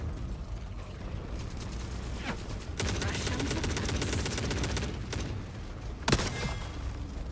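Revolver shots ring out amid dense combat noise in The Forever Winter. A few sharp reports stand out against a continuous roar of background gunfire and rumble, with one loud crack near the end.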